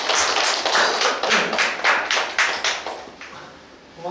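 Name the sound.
audience applause at end of lecture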